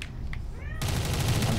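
Gunfire from a weapon in the Black Ops 3 custom Zombies Tron map. After a quieter start the firing bursts in loud and dense and keeps going to the end.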